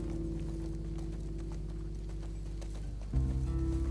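Horse hooves clip-clop in a steady rhythmic gait in The Last of Us Part II, close and even over a low droning in-game music bed that shifts near the end.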